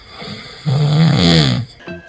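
A husband snoring loudly in bed, one long rasping breath swelling up close and then stopping, with a quieter breath stirring after it.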